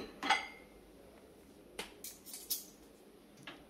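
Quiet clinks and clatters of dishes being set into the rack of an LG QuadWash TrueSteam dishwasher, a few separate light knocks spread over a few seconds.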